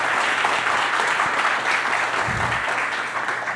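A room full of people at a conference panel on fishing and aquaculture in Sinaloa applauds steadily, a dense wash of clapping that holds throughout and fades slightly at the end.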